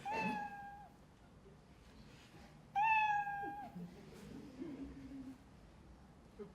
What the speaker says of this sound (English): That must be the cat.